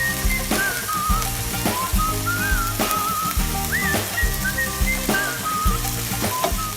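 Onions and green chilies sizzle and crackle in a hot wok while cooking sego luwuk, under loud background music with a steady beat and a whistled melody.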